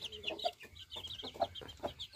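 Chickens and small yellow chicks with white tails clucking and peeping close by, a few short repeated calls spread over a couple of seconds with faint background noise.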